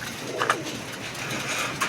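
Adult pigeons in a pigeon showroom coo softly and close by, with a couple of short throaty coos over a low background hum.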